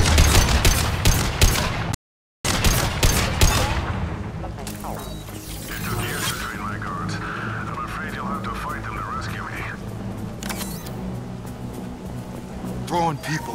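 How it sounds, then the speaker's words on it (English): A firefight in the video game Mass Effect 2 opens with dense, loud bursts of rapid gunfire, then falls to a quieter stretch of scattered shots and combat noise. "Taking fire."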